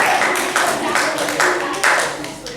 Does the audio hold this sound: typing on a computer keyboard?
no